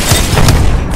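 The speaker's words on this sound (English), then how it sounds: "Throwing Arcstar." An Arcstar thrown and detonating in the shooter game Apex Legends, heard as loud, booming, dense blasts amid continuous gunfire-like bursts, filling the whole second.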